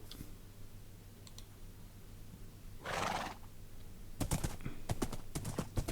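A Minecraft horse neighs once, then hooves clop in a quick run of close, sharp taps, with faint clicks early on.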